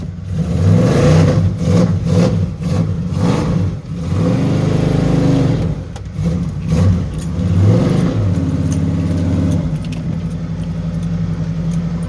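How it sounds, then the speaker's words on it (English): A car engine revs hard and repeatedly for a burnout, loud and close, with pulsing bursts of throttle over about twelve seconds and no talk. "Oh yeah, she'll do a burnout."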